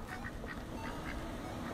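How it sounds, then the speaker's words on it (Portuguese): Cartoonish ducks quack in a quick run of short calls in the video game Little Inferno, heard over a dense, steady background of game sound. "Ah, porque saem os patos!"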